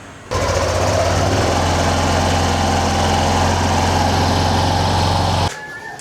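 A Yamaha Nmax scooter engine idles steadily through a stock muffler, heard close and loud with a constant low drone and a rough, buzzing exhaust note for several seconds before cutting out at the end.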